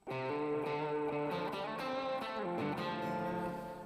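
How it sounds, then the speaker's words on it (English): An electric guitar plays a bright, shimmering chord passage through a Tone Junkie super reverb sparkle patch, sustained and full from start to finish, with no voices. "Here's a super reverb sparkle, another Tone Junkie patch."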